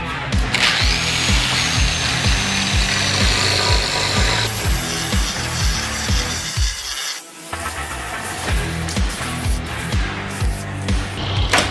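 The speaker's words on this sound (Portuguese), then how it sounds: "A retífica ela serve para deixar a peça chanfrada, né, para ter o semi-bisote, que é a preparação para o acabamento da minha esquadria" A router chamfers the edge of a wooden window frame, producing a loud, steady grinding and rubbing whir with a rhythmic pulsing, briefly dropping off midway before resuming; no one speaks.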